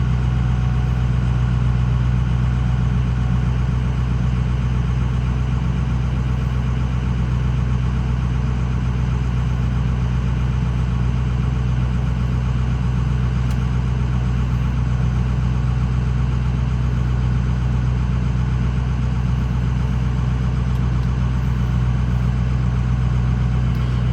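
A Ford 6.0 Powerstroke diesel pickup engine idles steadily at close range, a continuous low rumble with an even, unchanging clatter and no talking.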